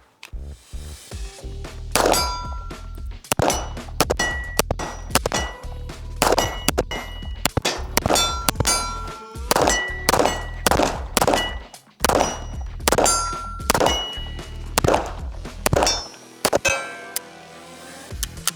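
A Kimber 2K11 pistol with a pinned grip safety fires round after round: loud, sharp, close reports in quick strings separated by short pauses, with a metallic ringing edge and no talk.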